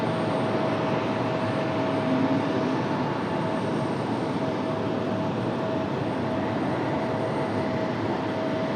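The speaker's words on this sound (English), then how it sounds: "Got an American up for departure." American Airlines jet taking off from runway 23 right at Raleigh-Durham International, a steady broad roar of engines at a distance that holds even throughout, no voices.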